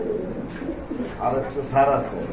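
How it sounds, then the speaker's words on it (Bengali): Large Mumbai-breed pigeons coo in low, throaty, repeated bursts at close range, with murmuring voices in the background. "অনেক বড় সাইজের কবুতর"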